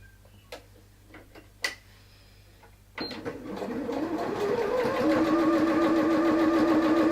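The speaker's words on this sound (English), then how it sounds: "we're going to sew along there" A sewing machine stitches fabric for a small hair bow. A few soft clicks come first, then the motor starts and runs steadily, rising into a louder, continuous whirring hum.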